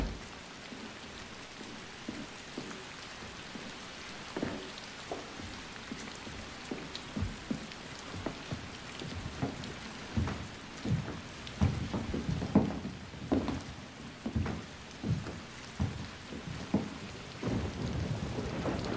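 Steady rain falls with frequent rumbles and cracks of thunder, the rolling booms growing more frequent and louder toward the end.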